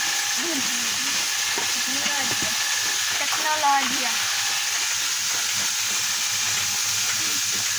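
Puffed rice (muri) is fried and stirred at a rice-processing spot, making a steady, close sizzling hiss with scraping stirs, while voices talk over it.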